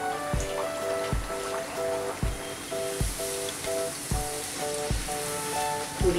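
Sooji poori, semolina puri, frying in hot oil, with a steady, bubbling sizzle throughout, punctuated by regular soft thuds and clinks at roughly one-second intervals, with a faint background melody running under it.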